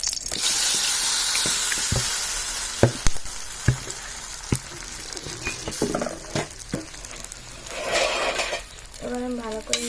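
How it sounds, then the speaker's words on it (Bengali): Rice flour and potato mixture stirred in an oiled kadai: scattered spoon taps and scrapes over a soft frying hiss, with a brief voice near the end. "এবার আমি ভালো করে নেড়ে করে জাল করে নিতে হবে।"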